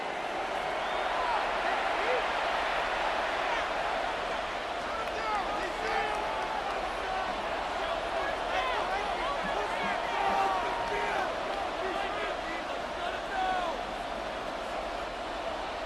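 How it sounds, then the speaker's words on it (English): A simulated stadium crowd in the video game Madden NFL 26 during a Cardinals vs. Seahawks game, a steady roaring wash with scattered cheers rising toward third down, under continuous commentator talk. "This crowd into it now as we get to third down."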